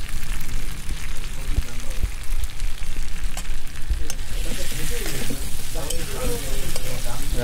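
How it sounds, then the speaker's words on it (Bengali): Egg and potato curry sizzles steadily in a pan as it is sautéed, with a continuous loud frying hiss and occasional stirring scrapes running throughout. "আজকে ডিম আলুর তরকারিটা আমরা আজকে অন্যভাবে একটু কষার চেষ্টা করছি।"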